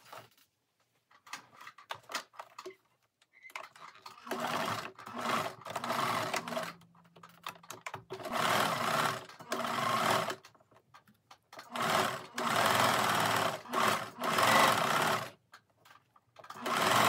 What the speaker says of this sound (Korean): 먼저 박음질을 합니다.